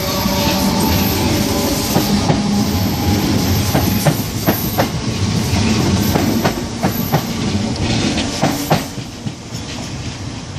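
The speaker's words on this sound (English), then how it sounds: "And that 507017 service to Liverpool Central is now departing." A Merseyrail Class 507 electric train pulls out of Sandhills station toward Liverpool Central, with a loud, steady rumble and a dense run of rhythmic wheel clicks over rail joints, heard close and without talk.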